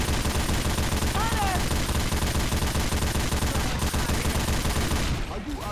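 Sustained automatic gunfire from a machine gun in Left 4 Dead 2, loud and dense for about five seconds before cutting out as the weapon overheats, with game voice chatter and effects mixed over the continuous fire.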